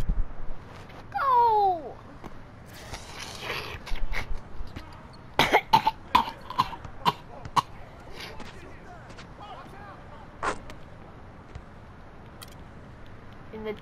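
A player coughs in several loud, harsh bursts during an NBA 2K16 basketball video game session, with throat-clearing and scattered talk and background chatter around the coughs.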